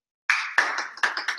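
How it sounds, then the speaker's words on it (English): A short, light golf clap: a handful of sparse, polite hand claps in an irregular rhythm, close and clear against silence. "A golf clap."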